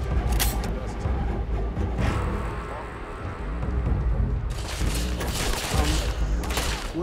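Rapid, dense gunfire crackles in a firefight in the video game Starfield, sustained bursts overlapping through the whole stretch, loud and close.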